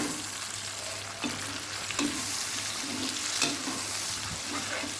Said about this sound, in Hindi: अब हम टमाटर ऐड करेंगे